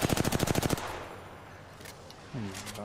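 A rapid automatic weapon burst in Apex Legends, about a dozen sharp, evenly spaced close shots lasting under a second, then a quiet pause before a voice starts speaking.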